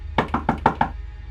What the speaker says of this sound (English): he was now knocking at my door